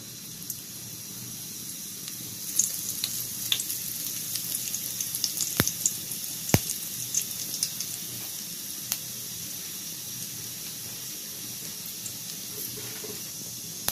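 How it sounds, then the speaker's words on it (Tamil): Fennel seeds splutter and crackle in hot oil, giving a steady sizzling hiss with scattered sharp pops throughout and no voices. "சோம்பு வந்து வெடிச்சிருச்சு."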